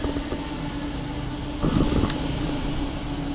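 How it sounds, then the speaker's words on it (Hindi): A train on the Laos to China railway pulls into a station, a steady rolling rumble with a brief louder surge of rail noise midway, heard nearby with no talk. "ट्रेन आ गई भाई।"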